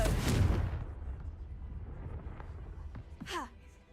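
A Confringo blast from Hogwarts Legacy hits hard at the start, a loud close burst that decays into low rumble, followed by a short chirping effect near the end.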